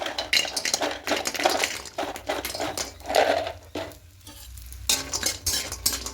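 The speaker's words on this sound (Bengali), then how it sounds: "নাড়াচাড়া করে একটু হালকা লাল করে ভেজে নেব" Lentil dumplings (bori) fry in mustard oil while being stirred, steady sizzling broken by repeated scraping strokes of a spatula against the pan, close and fairly loud.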